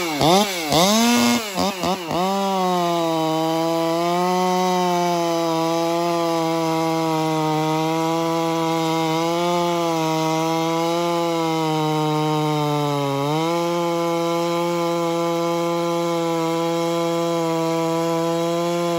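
An old go-kart fitted with two McCulloch engines, one with a new carburetor, starting up with a few sputters and then holding a loud, steady, buzzing idle that rises and dips slightly in pitch.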